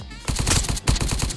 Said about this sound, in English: Hold up, Boris, I'm just gonna shoot him